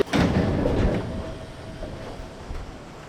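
An LRT train running from Tebet to Manggarai in Jakarta, heard from inside the car: a loud rumbling roll at first that eases into a steadier, quieter hum, with faint rail clatter and a thin high whine.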